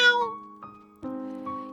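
A neighbour's cat on a rooftop meows in several short, drawn-out calls with pauses between them, close and moderately loud, with no talk over them.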